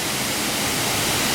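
Rushing water at Tat Ton waterfall, a loud, close, continuous roar of falling water with no break.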